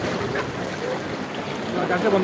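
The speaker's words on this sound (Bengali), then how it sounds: "এই যে গাড়ি যাচ্ছে গাড়ি" A car drives through floodwater on a rain-flooded street in Dubai, giving a rushing, sloshing wash of water that swells near the end. Faint voices are heard in the background.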